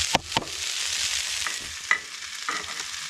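Potatoes, onions and peppers fry in bacon fat over a backcountry cookfire in Alaska, giving a close, steady sizzle broken by a few sharp scrapes and knocks of stirring.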